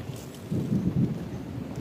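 Thunder rumbles low and muffled during the rainy season in the Konkan countryside, a brief distant swell over faint background hiss.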